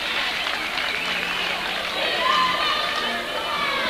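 A loud, noisy crowd roars at a tied high school boys varsity basketball game in Springfield late in the fourth quarter, with cheering and chatter swelling continuously under an announcer's talk.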